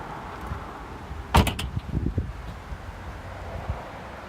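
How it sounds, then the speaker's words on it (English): A 1998 Chevy Corvette Convertible's door swings shut with a single quick, solid thud, followed by a few faint rattles and rustles in a quiet outdoor setting. "Let's close this door quickly."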